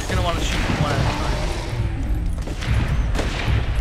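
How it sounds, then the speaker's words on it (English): Weapons in Primal Carnage: Extinction firing in bursts, a dense, loud rattle of shots that runs almost continuously, with game sound layered over it and a voice talking. "And then, with both weapons firing."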